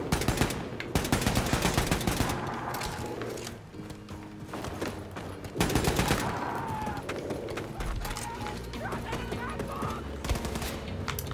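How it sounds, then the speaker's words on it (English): Gunfire in the video game Wolfenstein II, dense volleys of rapid shots mixed with game music and mechanical effects, loud and continuous with a brief lull midway before the firing swells again. "sometimes the gunfire is too loud to hear it"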